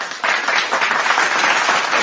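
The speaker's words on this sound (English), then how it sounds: "Can we just clap it up real quick?" Studio audience clapping at a content-marketing talk, a short burst of dense applause starting abruptly and holding steady, fairly close and loud.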